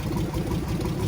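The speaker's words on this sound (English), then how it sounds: "I hear something else rattling down there" An engine with an exhaust manifold leak runs at a steady low rumble with an uneven, pulsing texture, close by and continuous.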